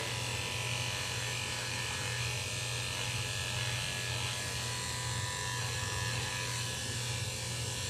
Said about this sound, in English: I'm making sure only to shave the top of the nose and not go down the side of the muzzle.